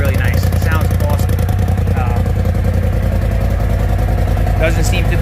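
Polaris RZR Pro XP side-by-side fitted with an Evolution Powersports exhaust, running close by with a steady, deep pulsing rumble throughout, while a voice talks over it.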